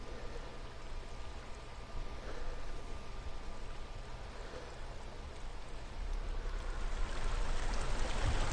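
A waterfall in the video game Hellblade makes a steady, fairly faint rushing and splashing that grows somewhat louder and fuller toward the end, with no talk over it.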